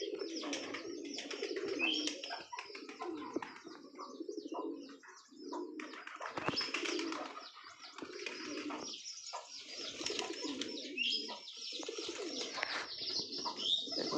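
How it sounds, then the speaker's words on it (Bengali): A flock of pigeons coos after being let out, low throaty burbling from several birds close by, with occasional chirps and wing flaps, continuing throughout. "সব পায়রাগুলো বেরিয়ে যাচ্ছে।"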